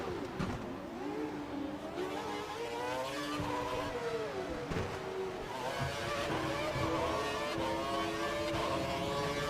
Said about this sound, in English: I think cars are going into pit now